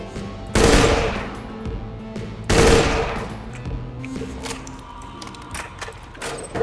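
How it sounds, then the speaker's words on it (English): Two heavy tri-burst volleys from a Borderlands scout sniper rifle in a video game, each a loud rapid triple crack with a booming tail, about two seconds apart, followed by quieter mechanical clicks. "Now this is a dull sniper rifle I'd actually be willing to use"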